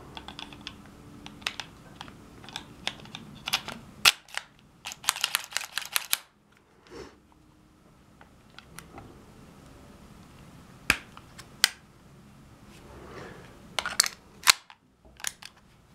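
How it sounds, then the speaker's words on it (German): Metal parts of a Zoraki 906 9mm P.A.K. blank pistol click and snap together during reassembly, a sharp rapid burst of clacks followed by scattered single clicks, up close with no talking. "Ja, zusammenbauen. Erst hier die Federführungsstange."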